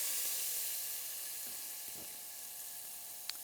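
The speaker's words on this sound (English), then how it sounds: "So we're just going to saute the leeks" Leeks sautéing in a pan over medium heat, with a soft, steady hiss and faint crackle that fades slightly over time, ending in one brief sharp tick.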